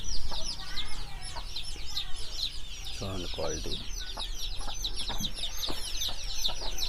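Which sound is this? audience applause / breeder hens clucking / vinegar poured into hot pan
breeder hens clucking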